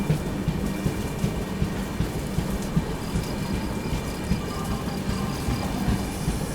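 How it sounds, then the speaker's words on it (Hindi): The Brahmaputra Mail pulling into Shikohabad Junction station: steady, dense rumbling and clattering of rolling wagons with a broad hiss, continuous and moderately loud, no talk. "चलिए अपनी ट्रेन का अराइवल होता हुआ दोस्तों शिकोहाबाद जंक्शन रेलवे स्टेशन पर।"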